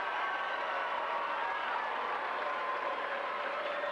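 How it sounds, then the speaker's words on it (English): Steady crowd applause filling a high school basketball gym during a March 1988 game between Mitchell and Brookings, a dense, even roar of clapping that holds at constant loudness throughout with no talk. "Here comes Mike Jorgensen in the lineup, and Tom Shields will go out, and he gets a great round of applause."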